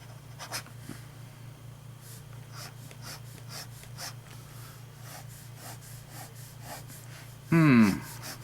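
A Lanbitou 3088 fountain pen with a cheap steel nib scribbles on paper in faint, scratchy rubbing strokes, followed by a brief louder squeak near the end.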